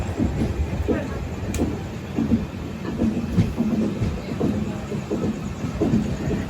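The Seshadri Express rolls through a rail yard, heard from inside a general coach as a loud, continuous rumble with scattered wheel clicks and clanks.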